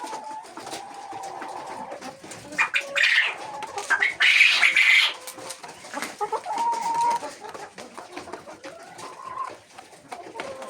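Laying hens in a henhouse clucking and cackling close by, with overlapping calls building to a loud burst of squawking midway, then settling back to scattered clucks.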